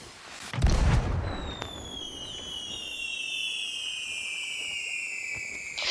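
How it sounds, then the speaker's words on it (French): A firework in the video game Sea of Thieves goes off with a dull thump, followed by sustained bright whistling tones that hang in the air and slowly fade. "Feux d'artifice, c'est hyper mignon."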